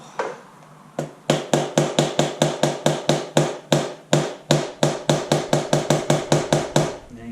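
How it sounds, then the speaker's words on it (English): A hammer taps a Honda CBR250R MC19 motorcycle part in a steady, rapid series of about twenty sharp, ringing strikes, close and loud, with a short pause after the first hit. "I'm not pounding the crap out of this with this hammer. It's just a tap."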